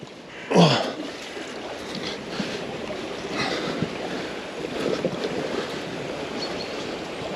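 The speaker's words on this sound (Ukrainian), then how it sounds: "Просто горна ріка." River water flows along a channel of the Dnipro, a steady broad rushing with wind buffeting the microphone and a louder gust or splash near the start.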